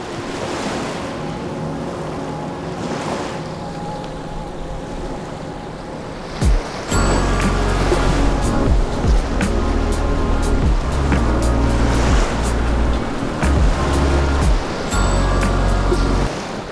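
Ocean waves crash against the shore at Cavtat, Croatia, with a continuous roar of surf and wind; a louder surge of breaking water arrives midway and keeps rumbling heavily.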